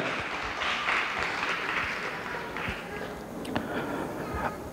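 Audience applause at a stage cultural annual-day event by the Yuva Kalavahini cultural organization: a steady, dense wash of clapping fills the whole stretch at moderate loudness, with a few sharper claps standing out.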